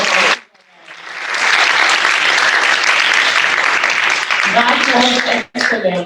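Audience applause at a graduation ceremony swells quickly and holds steady as dense, even clapping before cutting off near the end, with a brief voice breaking through at the close.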